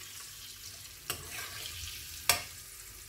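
Eggs fry quietly in a non-stick pan with a soft, steady sizzle. Two brief utensil clatters stand out over it.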